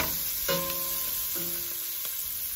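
Onions frying in a pan with green chillies and turmeric, a soft steady sizzle under a few brief ringing utensil taps and a constant high whine, quiet and close.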